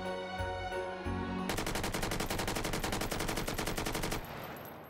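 Rapid full-auto bursts from an AK-5C rifle in the VR shooter Hot Dogs, Horseshoes & Hand Grenades, a steady stream of close, loud shots for about three seconds after a brief lead-in, then stopping abruptly.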